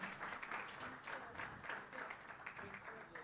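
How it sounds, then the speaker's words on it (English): Audience applause at a report launch on budget performance and socio-economic outcomes, a faint, steady patter of many hands clapping with no single claps standing out. "Round of applause"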